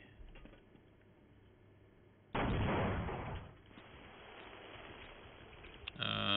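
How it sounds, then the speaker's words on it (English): A landmine detonates in the Half-Life video game: one sudden, loud blast bursts out of a quiet backdrop, roars for about a second and then fades into a lingering rumble, with another sharp burst near the end. "We actually managed to trigger the mine here."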